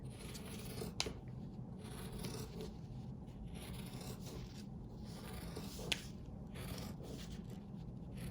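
Scissors snip fabric along a curve to cut a waist opening for a doll's full circle skirt, making quiet close crisp cuts with a couple of sharper clicks, alone and without talk.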